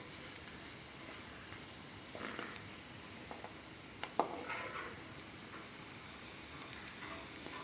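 Remaining ingredients for pirandai thuvaiyal roast in leftover oil in a pan, giving a faint, steady low sizzle with occasional soft taps and stirring clicks.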